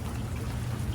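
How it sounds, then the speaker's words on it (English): Steady rain falls on a flooded neighborhood, a dense continuous hiss and patter with no breaks, moderately loud and alone without voices. "even though it's still raining"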